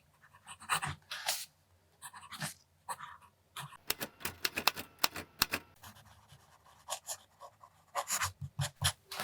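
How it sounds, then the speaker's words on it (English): A broad nib fountain pen scratches across paper in short strokes, each a close, crisp scrape. The strokes come in irregular bursts with brief pauses between them. "Looking at the broad nib, we get the same tone as the medium"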